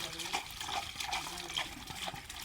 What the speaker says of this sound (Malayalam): വെള്ളം ഒഴിച്ചിട്ട് ഇത് മിക്സ് ചെയ്യും.